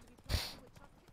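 A hoof lands once on a path as the horse Roach moves in The Witcher 3, a single soft thud with a short tail, close by and fairly quiet.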